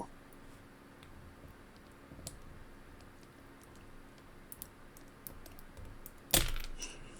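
A back axle is pried out of a die-cast Hot Wheels car from the Halloween Grim Reapers series, levered past its retaining tab. Faint small clicks and scrapes lead to one sharp, close snap near the end.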